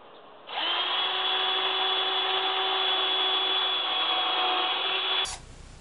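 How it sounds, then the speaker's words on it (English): A power drill bores pilot holes for door installation screws in one steady, close whir lasting about five seconds, then stops abruptly. "I'm going to go ahead and drill out these first 2."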